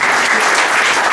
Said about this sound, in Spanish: hay que dar un gran aplauso, un homenaje especial a nuestro guitarrista Roque